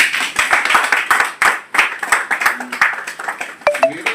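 An audience at a pension association gathering claps to welcome people, a steady burst of many hands applauding close by with uneven rhythm, fading and picking up again near the end.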